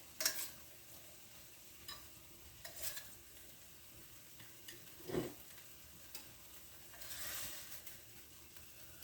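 Lean 85/15 hamburger patties browning in a frying pan give a faint, steady low sizzle with a few scattered soft pops and clicks, heard alone.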